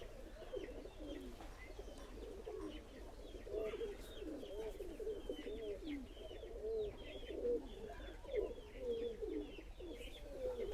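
Pigeons cooing continuously in soft, rolling calls, faint and somewhat distant, with a low steady background hum throughout; no voices.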